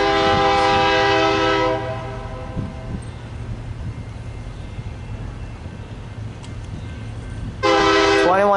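A BNSF freight train approaches along the Puget Sound, blasting its horn loud and close at the start and again near the end, with a steady rail rumble between the blasts.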